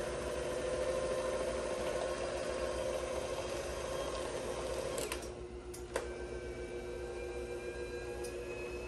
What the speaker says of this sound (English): I've never seen a mixer do that before.